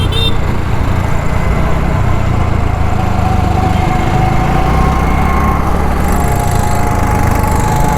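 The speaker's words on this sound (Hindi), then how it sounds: "और यहाँ पे ऐसी ऑटो चलती है, देख सकते हैं आप लोग" Auto rickshaws run along an Indian street, giving a continuous loud, buzzing small-engine drone mixed with the wider traffic rumble.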